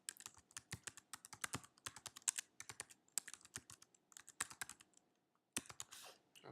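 Someone types a wallet password on a Mac computer keyboard: quiet, close, irregular key clicks in quick runs, a brief pause, then a few more strokes, with no speech.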